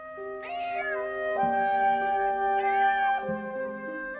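A cat meows several times in a row, drawn-out and tonal, fairly close and clear against a quiet background, no talking.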